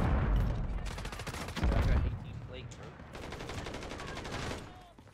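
Rapid automatic gunfire in the Warzone video game, several bursts of shots, some near and some farther off, with voices talking over the firing.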